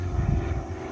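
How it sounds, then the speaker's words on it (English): A low, droning rumble of an airplane passing overhead, loud and steady through the brief moment, heard outdoors beside a 2005 Mercedes-Benz C240. "Please excuse the plane overhead."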